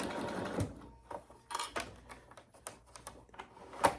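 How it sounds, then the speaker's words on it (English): Sewing machine stitching around the edge of a small leather crossbody wallet, heard as quiet, uneven rapid ticking and clacking in short irregular bursts, close by. "So I'm going to stitch around."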